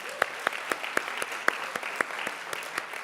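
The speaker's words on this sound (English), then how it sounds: "Let's give a round of applause for our amazing Lightning Pitch team" Steady applause from an event audience honoring a pitch team at a charity challenge finals, a moderate wash of clapping with sharper individual claps standing out at regular intervals, heard alone.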